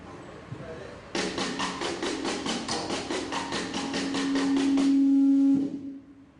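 A percussionist works a drum with a stick near the lug screw, moving the stick up and down to draw a steady, rapidly pulsing ringing tone that swells over several seconds and then stops abruptly, heard alone and close.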